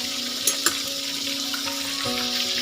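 Chicken pieces fry in hot oil with a steady, hissing sizzle close by, broken by a couple of small pops and a soft clink, with a faint tonal hum underneath.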